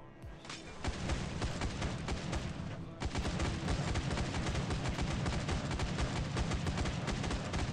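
Weapon fire in the zombie survival game Dawn of Zombies, a steady, dense stream of rapid gunshots with deep thudding booms, continuous for nearly eight seconds, briefly dipping near the three-second mark.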